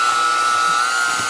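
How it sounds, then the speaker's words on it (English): An electric hand mixer works through thick, crumbly muffin batter with a steady, high motor whine and a buzzing hum. The sound is loud and close, and no one talks over it. "The hand mixer's like going, oh my god, what are you putting me through?"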